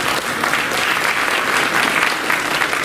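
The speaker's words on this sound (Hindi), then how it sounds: "मोनाली जी के लिए जोरदार तालियां।" Loud, dense applause from a large audience at an award ceremony honouring people with disabilities, continuous and even throughout, close and enthusiastic with no pauses.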